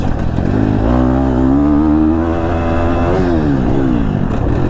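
A 2022 KTM 250 SXF dirt bike engine drones steadily and loudly up close while being ridden, its pitch climbing and falling with throttle changes and a continuous buzzing note throughout.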